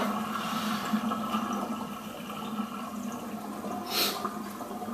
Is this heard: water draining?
yes